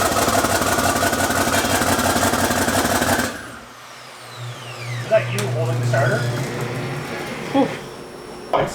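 An engine being cranked over on its starter during a first start attempt, giving a loud, rapid mechanical churning that cuts off abruptly after about three seconds, followed by quieter shop noise and scattered clanks.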